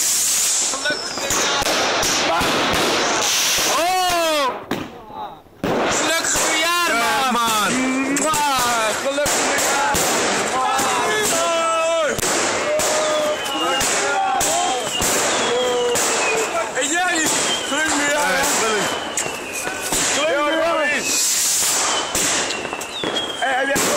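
A long, dense barrage of crackling firecrackers and fireworks pops and bangs continuously in Oosterhesselen, Netherlands, with people talking and exclaiming in Dutch over the noise.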